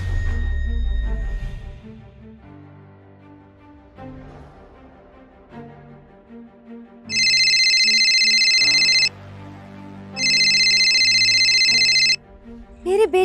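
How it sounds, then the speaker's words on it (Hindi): A mobile phone ringtone rings as a son calls his mother, two loud bursts of a bright repeating electronic tone, preceded by quieter musical tones and low background sounds. "मेरे बेटे का फोन, ये मुझे क्यों फोन कर रहा है?"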